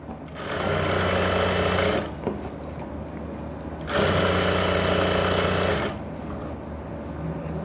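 A sewing machine stitches a pair of pants with a front belt and an elastic back, running in two steady bursts of about one and a half seconds each, with a short pause between them and no talking.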